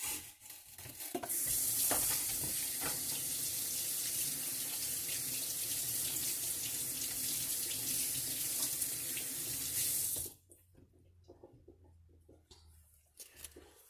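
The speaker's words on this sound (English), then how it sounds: "And wash my hands." Hands washed under a running kitchen tap, a steady close rush of water for about ten seconds that stops abruptly, leaving faint kitchen noise.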